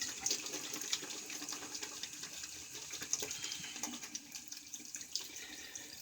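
A shaving brush is rinsed under a running tap, giving a steady, fairly quiet hiss and splash of water falling into a sink, with small splashy surges as the brush moves through the stream.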